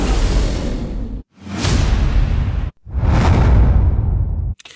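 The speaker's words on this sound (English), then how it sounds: "And finally, whooshes." Powerful cinematic whooshes from the AVA Music Group Quantum trailer library, three loud rushing sweeps in a row with dense low rumble, each ending in a short gap before the next.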